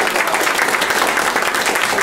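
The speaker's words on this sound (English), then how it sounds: "let's have another round of applause for the performers" Dense, steady applause from a concert audience at a chamber music performance, a continuous wash of many hands clapping throughout, close and loud with no talk over it.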